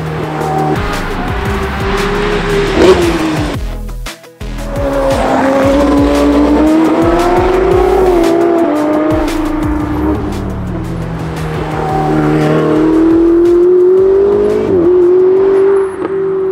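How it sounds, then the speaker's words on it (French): Supercars, including a Porsche GT3 and a BMW M3, roar around a karting circuit, engines rising and falling through gear changes with tire squeal, loud and close, passing continuously behind. "il y a pas mal de voitures qui passent derrière moi"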